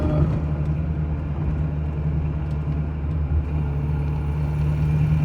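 A Geo Tracker's engine drones steadily in third gear on a slow street, a continuous close, loud rumble with a low hum that holds even throughout, with no talking.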